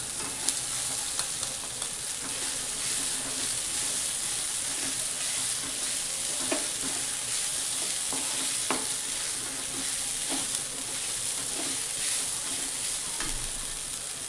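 Poha is tipped into fried onion in a pan and stirred, giving a constant moderate sizzle broken by repeated sharp scrapes and taps of the spoon against the pan.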